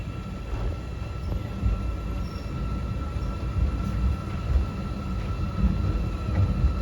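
A zoo safari monorail train rumbles along at steady speed, low continuous wheel and motor noise with a faint high whine, no voices.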